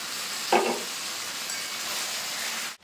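Steady hissing sizzle of eggplant and green chillies frying in katla fish oil, with a brief scrape of stirring near the start.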